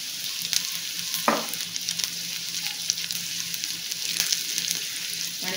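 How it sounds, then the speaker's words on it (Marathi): Curry leaves and green chillies sauté in a hot pan with a steady close sizzle, a sharp crackle as something drops in early and light stirring scrapes over the continuous frying hiss. "कढीपत्ता टाकलेला आहे, थोड्याशा मिरच्या पण परतून घेऊ"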